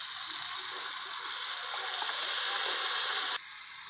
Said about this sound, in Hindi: पहले मैं थोड़ा सा पानी डालूँगी।